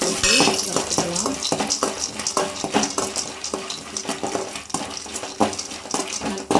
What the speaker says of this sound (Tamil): அப்புறமா இந்த கடலையை போட்டு வறுத்துக்கலாம்.